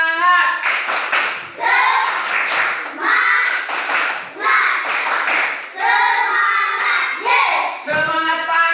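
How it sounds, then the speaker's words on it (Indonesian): A school class performs the 'tepuk semangat' spirit clap, bursts of rhythmic group hand clapping mixed with children chanting along in unison, loud and close throughout. "Tepuk semangat."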